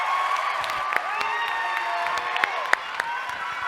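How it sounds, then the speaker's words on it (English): An audience at a Radford University convocation in 2015 claps and cheers, with a few whoops and sharp claps rising above a steady crowd noise at moderate distance. "Take a round of applause."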